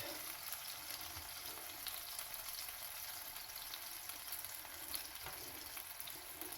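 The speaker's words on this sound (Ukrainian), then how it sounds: "Все жариться, я думаю, тут не цікаво, дивіться, як воно шкварчить." Food sizzles and crackles steadily in hot oil, a soft continuous frying hiss with small pops, no voices.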